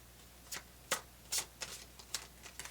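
A deck of tarot cards is shuffled by hand, producing a handful of quick, crisp riffling bursts at uneven intervals, close and fairly quiet with no talk.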